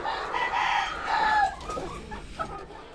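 A new batch of farm hens clucks and squawks nearby, several overlapping calls rising and falling over a few seconds with no voices.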